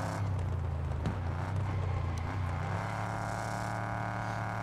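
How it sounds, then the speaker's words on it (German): An old car's engine in the racing game Test Drive Unlimited Solar Crown, a steady low droning hum with a faint whir and occasional scrape, constant in level throughout, with no talk. "Aber ich finde den Sound geil, der passt auch irgendwie so zu dem alten Auto."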